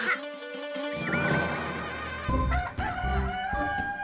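A rooster crows loudly and close, a long strained cry with a few clucks and a clattering crash mixed in over a busy background.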